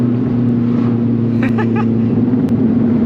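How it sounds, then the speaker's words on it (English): A 400 HP Subaru STI heard from inside the cabin, with a loud, steady engine drone and low hum throughout and a few brief sharp noises partway through. "My first time I ever launched a Subaru"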